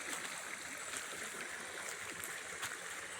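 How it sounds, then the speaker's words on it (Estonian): Irrigation water from the mountains flowing along a garden channel near Órgiva, Spain, a steady close rushing and gurgling with bright splashy trickles, continuous and alone without speech. "Ja niiviisi see vesi voolab."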